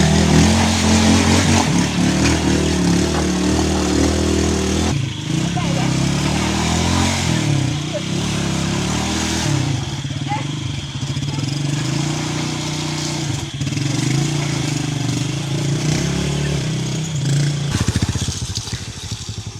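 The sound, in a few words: motorcycle riding on a rough road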